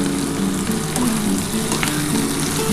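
Potato, bitter gourd and pointed gourd frying with fish fat, a loud, constant close sizzle and crackle that holds steady throughout with no talking.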